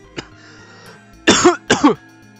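A person coughs after choking on water: a small throat-clearing catch, then two loud, close, harsh coughs in quick succession.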